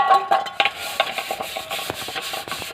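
A greasy pressure cooker is scrubbed by hand, with steady scratchy rubbing and small metallic clinks at close range.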